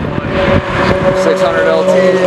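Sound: McLaren 600LT sports car engine

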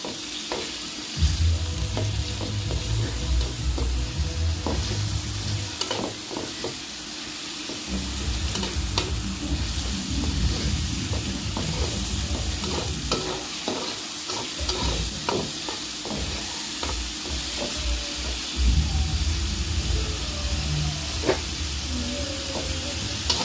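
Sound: garlic, onion and ginger paste frying in oil

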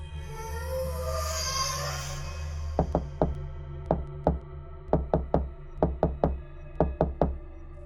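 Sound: loud knocking on a door, story sound effect

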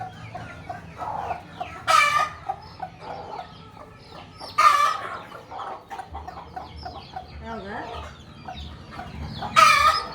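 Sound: hen and chicks clucking

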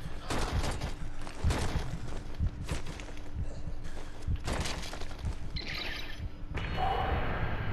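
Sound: player firing a gun at zombies in the video game Zombi

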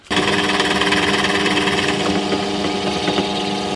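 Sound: drilling an 8.5 mm hole through a guitar body

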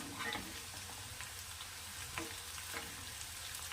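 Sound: onions frying until brown

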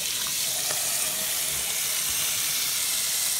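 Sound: dog's water bowl being filled with water from the tap

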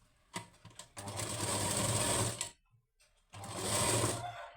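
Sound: sewing machine stitching blouse lining

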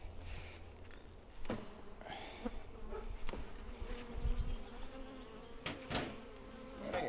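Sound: honeybees buzzing during beehive inspection

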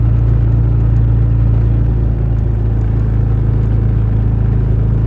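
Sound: car engine driving in third gear

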